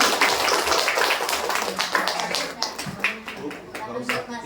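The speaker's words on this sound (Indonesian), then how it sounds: "tepuk tangan buat Bu Titinya, Bu ya" An audience at a sales demonstration event in Indonesia claps in scattered, uneven bursts, with sharp individual claps standing out while people talk over it.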